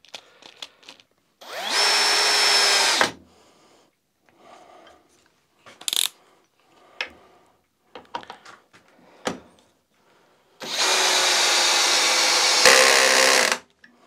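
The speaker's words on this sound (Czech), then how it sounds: "Teďka zkusím zašroubovat tady tyhle ty konstrukční vruty. Jsou to všechno osmičky, tohle je 8x200" A Parkside Performance PPBSA 20-Li A1 cordless drill driver sinks 8x200 construction screws in two loud, sustained whining bursts of a second or two and about three seconds, separated by quiet clicks and handling noises.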